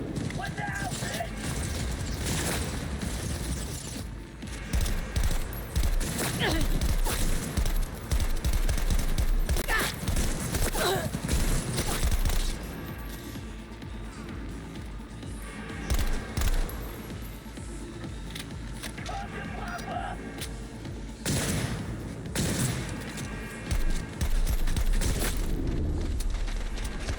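Heavy gunfire in Cyberpunk 2077 bursts in repeated volleys, loud and close, with clattering shots and impacts layered over game noise and occasional voices.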